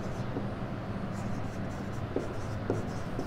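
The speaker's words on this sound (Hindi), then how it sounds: "दो क्वेश्चन साथ साथ लिख लेते हैं एक बार" Questions for a physics lesson on charge and current are written on a paper or board. The scratchy strokes come as faint, intermittent marks over a steady, noisy room background.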